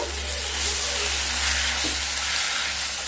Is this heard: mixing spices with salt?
yes